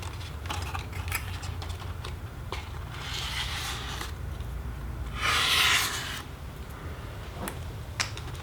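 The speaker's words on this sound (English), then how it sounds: "we're going to go right back and scrape most of it off" Scraping excess glue off a foam board part for a Flite Test DR1 triplane model airplane build: soft, irregular scratchy strokes close up, with a louder rubbing burst midway, no talking.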